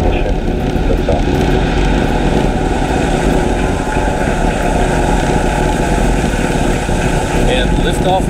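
A SpaceX rocket engine ignites and lifts off on the CRS-29 cargo mission, making a loud, steady broadband roar that fills the whole stretch without letup.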